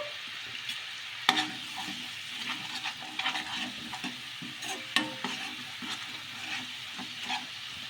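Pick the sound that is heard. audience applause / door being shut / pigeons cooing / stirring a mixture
stirring a mixture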